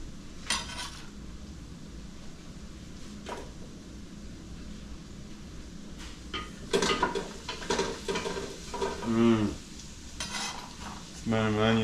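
Onion, celery and garlic sautéing in a pot for homemade chicken noodle soup: a low, steady sizzle broken by the scrape and clank of a spoon stirring against the pot, louder in bursts toward the end.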